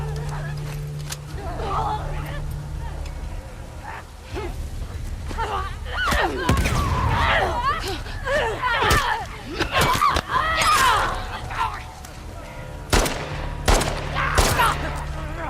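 Rapid bursts of gunfire from a video game shooter crackle in quick volleys over excited live-stream chatter, with clusters of shots dense in the middle and again near the end.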